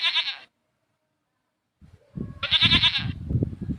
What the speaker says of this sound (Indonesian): seperti itu ya teman-teman suara kambing